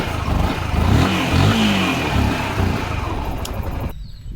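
A Yamaha R15 motorcycle engine runs steadily just after starting, a close, loud idle with a low rumble and mechanical clatter that cuts off abruptly near the end.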